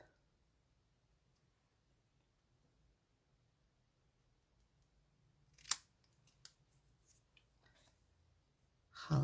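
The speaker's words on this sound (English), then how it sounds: "Let's take our words here and let's cut this down a little bit." Scissors snip a paper sentiment strip for a card, making a few faint, sharp cuts and clicks in a quiet room, with a louder rustle at the end.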